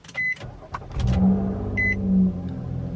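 A Nissan car with a freshly fitted battery starts after a couple of short chirps, then its engine settles into a steady warming-up idle with a mid-pitched hum that swells briefly before evening out.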